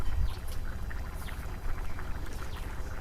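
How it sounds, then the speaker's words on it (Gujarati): Water pours into flour for roti dough in a close, continuous gurgling splash with a low rumbling undertone throughout. "પહેલાં તો પાણી નાખી દઈશું"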